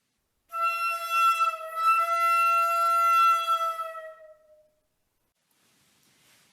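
A flute plays a sustained, rich-harmonic tone imitating a train whistle, one long blast of about four seconds with a slight dip midway, then fading to silence; no voices.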